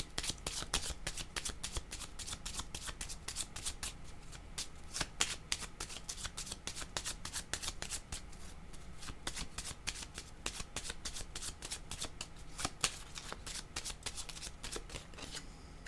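A deck of playing cards is shuffled over and over, with quick riffling flutters and slaps in a steady, close, busy rhythm for about sixteen seconds. A faint voice is briefly heard underneath.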